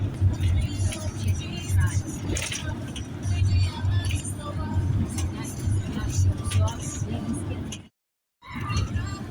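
Car interior drone while driving along a road past Chernivtsi in western Ukraine, a steady low rumble with small rattles and a voice talking over it, cut by a brief silence near the end.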